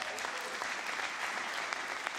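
Audience applause at a conference, an even burst of clapping from a crowd that holds steady throughout.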